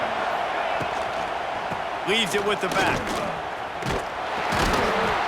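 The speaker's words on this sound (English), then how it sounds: "This crowd trying to make life miserable for this offense." Stadium crowd in the NCAA 26 college football video game, a broad constant roar swelling near the end, with a commentator talking over it and brief thuds and shouts.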